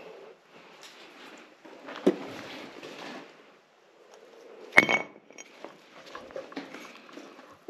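Glass objects clink and tap softly as they are handled inside a remote cave in Laos, with scattered light knocks, a sharp clink near the middle and quiet rustling between.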